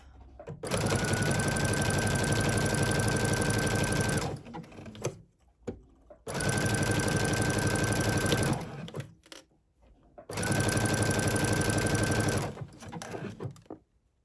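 A sewing machine stitches T-shirt fabric in three long, steady runs of rapid mechanical whirring, each stopping abruptly, with short quiet gaps and light handling noises between them.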